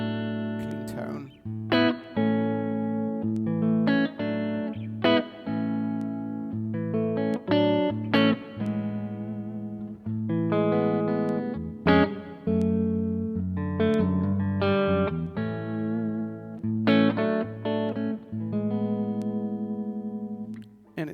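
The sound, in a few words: Westone Pantera X390 electric guitar, clean tone, front pickup, reverb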